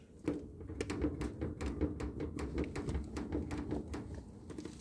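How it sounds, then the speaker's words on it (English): The front panel of a Hotpoint WM76P washing machine creaks and ticks in a quick irregular series of sharp clicks over a low mechanical rumble from the running drum, close and fairly quiet, with no talk. "when does a washer's front panel sound like this?"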